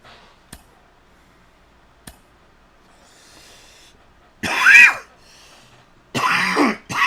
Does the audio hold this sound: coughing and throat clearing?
yes